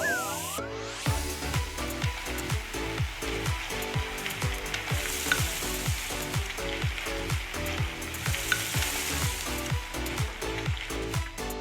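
Cooked rice, ham, egg and green onion fry in a pan, sizzling loudly and steadily with repeated rhythmic scraping and stirring strokes throughout.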